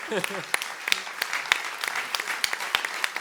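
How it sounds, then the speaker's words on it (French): Festival opening audience applauding the event team, scattered claps with distinct sharp individual hits over a thinner crowd wash, with a voice speaking briefly at the start. "J'aimerais vraiment qu'on les applaudisse"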